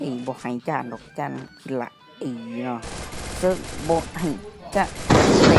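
Rapid bursts of gunfire from the Free Fire battle video game, with several loud overlapping shots in the second half while someone talks over them throughout.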